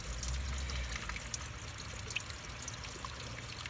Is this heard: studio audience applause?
no